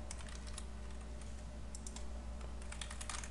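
Quiet, rapid keystrokes on a computer keyboard as a console command is typed, a steady patter of close clicks with no voices.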